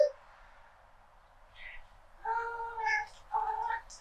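A house cat meows in a few drawn-out calls in the second half, fairly close and clear, after a quieter stretch with a brief higher cry early on; no talk over it.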